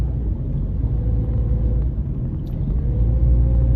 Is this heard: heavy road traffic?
yes